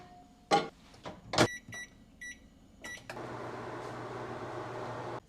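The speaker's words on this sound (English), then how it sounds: "I just might microwave it for a couple of minutes because I like crispy bacon." A few electronic button beeps, then a steady low mechanical hum as a microwave oven starts running and keeps going, cooking bacon.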